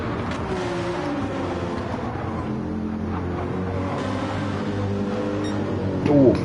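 A Lamborghini race car engine in a racing video game drones steadily through the clip, with a brief rough surge near the end as it sputters coming out of a turn at Deep Forest Raceway.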